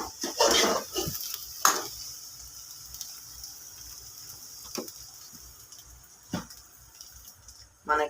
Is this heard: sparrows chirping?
no